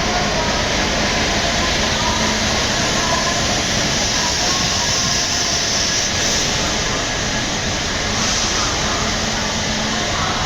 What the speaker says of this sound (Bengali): দুটো ট্রেন পাশাপাশি এসছে, একটা ট্রেন একটু আগে এসছে